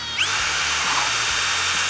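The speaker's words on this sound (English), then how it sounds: "put it in there like such, pull the trigger" A Ryobi power drill bores a hole through a hollow core interior door, a steady high-pitched whine that starts abruptly, runs continuously at constant speed and cuts off at the end.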